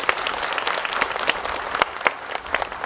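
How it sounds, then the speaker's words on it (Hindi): A crowd at a gathering of former soldiers breaks into loud, close applause, dense overlapping claps with a few sharper peaks through the full three seconds. "जोर से ताली हो जाए।"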